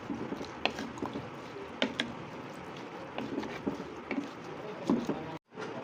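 Water stirred into mutton paya in a pressure cooker pot, soft sloshing and wet squelches with light knocks of the spoon, quiet and close, ending with a brief drop to silence.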